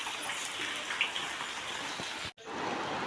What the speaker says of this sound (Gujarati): આજે તો વરસાદે જબરજસ્ત કરી છે